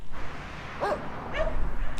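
Dogs bark on a roadside in Greece, heard by a passing touring cyclist: two short yipping barks spaced apart, moderately close over steady outdoor background noise.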